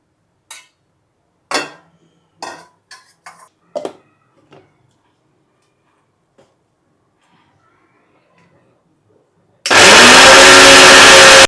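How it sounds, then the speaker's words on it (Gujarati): A few light clinks and taps, then a kitchen grinder roars on abruptly, whirring loudly and steadily for the last couple of seconds as it crushes green chillies. "હવે આ લીલા મરચાં ક્રશ કરવાની તૈયારી ચાલુ છે"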